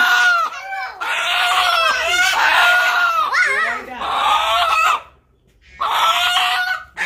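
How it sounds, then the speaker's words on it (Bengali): Two roosters held by hand on a rural Bangladeshi homestead crow loudly and cluck in near, overlapping calls, with a short pause before the crowing resumes. "দুই হাতে দুই মোরগ ডাকাডাকি।"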